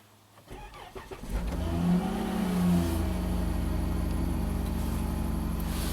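A Chrysler Pentastar engine with a misfire complaint cranks briefly, catches and starts, revs up, then settles into a steady close idle with no tapping or ticking.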